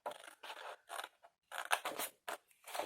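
Scissors snip straight through paper in a quick series of close, crisp cuts, each a short bright rasp with small gaps between strokes, and no talking.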